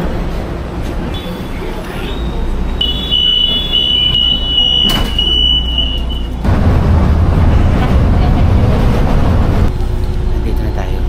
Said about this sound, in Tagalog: Ayun na yung train. Pasok ka tayo.